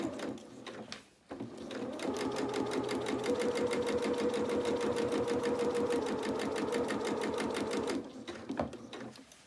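A sewing machine stitching fabric for a doll's dress, a fast steady mechanical chatter running continuously for several seconds, then stopping; close and fairly quiet, with faint handling noise at the start and end.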